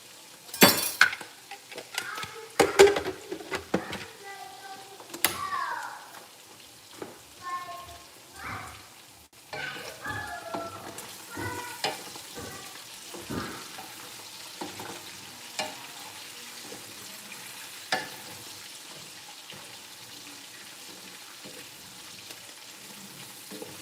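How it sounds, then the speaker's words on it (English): Meat sizzles and crackles steadily in a hot pan, with a few utensil clinks and stirring scrapes early on, continuous and fairly close, with no talk over it. "But right now our meat is cooking."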